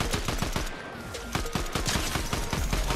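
Rapid automatic gunfire in Fortnite from a Warforged rifle, a dense, close string of quick cracking shots with short pauses between bursts.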